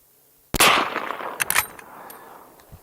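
One suppressed .45-70 rifle shot fires full-power ammunition through a Resilient Ramblin Man .46 caliber suppressor, a sharp loud crack that decays into a short echo, followed by a few fainter clanks.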